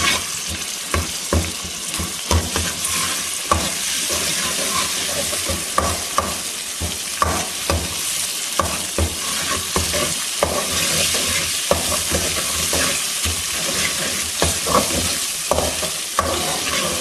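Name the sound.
ginger garlic paste frying in oil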